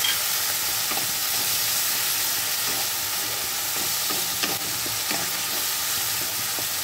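Masala for a prawn curry sizzles and fries steadily in a pan after water is added, a continuous loud hiss with faint stirring scrapes throughout and no talking.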